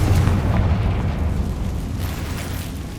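A Confringo fire spell bursts in Hogwarts Legacy, a heavy booming explosion that hits loud at the start and then rolls off into a dense, rumbling decay lasting a few seconds, with no voices.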